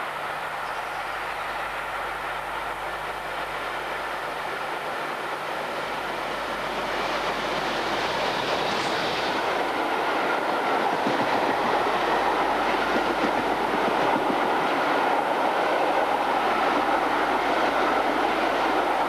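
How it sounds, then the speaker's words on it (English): The Merchant Navy class steam locomotive Clan Line running on a test run between Eastleigh and Yeovil Junction, a steady rolling rumble with rail clatter that swells and stays loud throughout. "September saw the Merchant Navy complete a test run from Eastleigh to Yeovil Junction and return."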